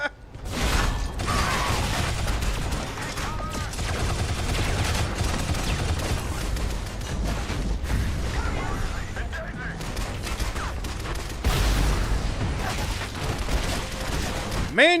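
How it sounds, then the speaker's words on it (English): Missiles and gunfire from the video game Shadow Complex form a dense, continuous barrage of blasts and mechanical clatter that stays loud for the whole stretch, with a brief lull near the start and a fresh surge toward the end. "Man, you got a lot of missiles."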